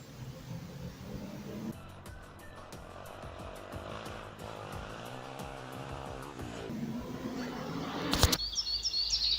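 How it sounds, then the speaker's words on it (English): Motorbikes pass along a road on a race day, their engine drone swelling and fading over steady outdoor background noise while birds chirp nearby. "the motorbikes were on the way. There must be some sort of race on today."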